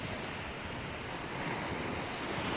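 Ocean surf washes steadily onto a beach, a continuous broadband rush of breaking waves mixed with gusty wind buffeting the microphone, with no voices.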